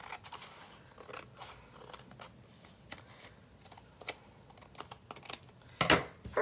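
Scissors snip off excess from a folded paper trifold pocket folder, giving a series of light, quick cuts and crisp paper crackles close by, ending with a brief louder rustle.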